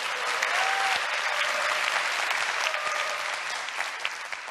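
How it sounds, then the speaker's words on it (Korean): Lecture audience applauding in a hall, a full, sustained round of many people clapping at an even level, trailing off slightly toward the end, with no talking over it. "박수."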